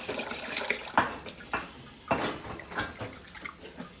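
Water splashing and running during dish or pot washing in a village kitchen, with irregular close splashes and clinks over a steady wet wash, no talking.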